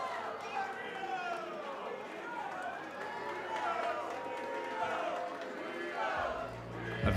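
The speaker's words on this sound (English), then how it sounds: "A very mixed reaction there from the crowd." Wrestling arena crowd reacting after a match-winning move in a three-way women's match, a sustained mix of cheers, shouts and chatter filling the space at steady volume with no single voice standing out.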